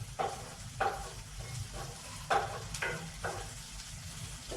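Onion frying in ghee, a soft continuous sizzle with a few rhythmic scraping stirs of a spoon in the pan, fairly quiet and without talk.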